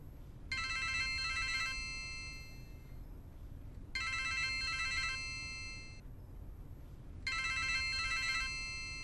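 Telephone ringing in a quiet room, three separate electronic ring bursts spaced evenly with short silences between them, clear and moderately loud, no talk.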